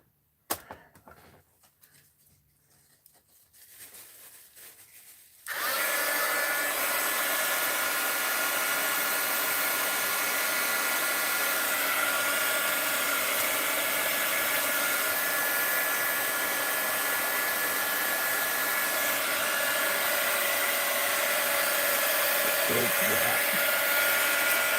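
A heat gun drying a mixed media art journal page starts after a few seconds of quiet handling noises. It then roars as a loud, steady, close blowing hiss that runs unbroken to the end, with no talking.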